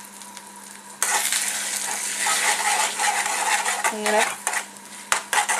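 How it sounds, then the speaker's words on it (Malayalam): A metal spoon, turned on its back, stirs and scrapes scrambled egg for egg thoran in a sizzling pan, giving repeated close clinks and scrapes over a steady fry hiss, with a brief spoken word at one point. "ഞാനിപ്പോൾ ഈ സ്പൂണിൻ്റെ ബാക്ക് സൈഡ് വെച്ചിട്ടാണ് ഇത് ഇളക്കുന്നത്"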